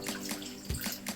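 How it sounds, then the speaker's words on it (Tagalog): Water poured into a pan of beef while cooking, a soft splashing pour with small gurgles and splashes, quiet and close. "Tsaka tubig, lalagyan ko ng tubig."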